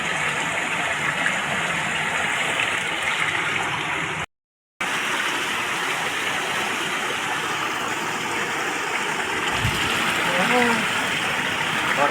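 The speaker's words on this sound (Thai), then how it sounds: "ฟังเสียงน้ำไหล" Steady broadband rush of water flowing in a stream, continuous and fairly close throughout, with a brief dropout partway and a faint low thump near the end; no voices over it.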